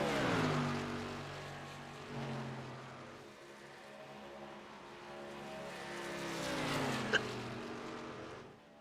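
Race trucks lap Texas Motor Speedway in a Great Lakes Truck Series event, engines droning and shifting pitch as they run, rising again toward the end, moderately loud with no talk.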